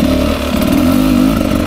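A 2024 Beta 300 RR Race Edition enduro motorcycle engine drones steadily up close, loud and continuous with a slight rise in pitch, no voices.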